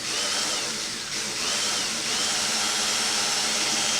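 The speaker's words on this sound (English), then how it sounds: "I'm just gonna see if I can't just come through and pre-drill the holes this way here." A power drill whirs continuously while pre-drilling holes during an RV repair, a close, steady high-pitched motor whine with a short dip in speed partway through and no talking.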